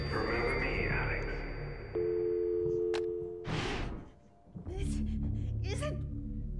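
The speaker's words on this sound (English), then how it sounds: "Hey, the phone's ringing." A telephone rings in the horror video game Eternal Darkness: Sanity's Requiem, giving a steady electronic tone for about a second and a half over dark ambient game sound, with a voice talking around it.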